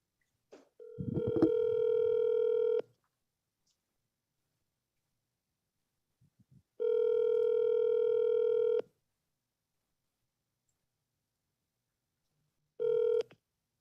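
Telephone call in progress: a short burst of dial tones followed by long ringback tones repeating at regular intervals with silence between, clear and alone.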